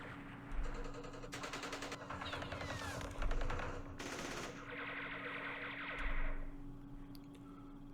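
Direct fire at mortar positions in the Vietnam war game Campaign Series Vietnam, Battle of Hue: sustained rattling bursts of automatic fire with echoing impacts, a steady low hum underneath and no talk.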